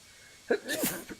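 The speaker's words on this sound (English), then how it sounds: "That was a good sneeze." A single sharp human sneeze, close and loud, bursts out with a quick inhale and a short trailing breath after it.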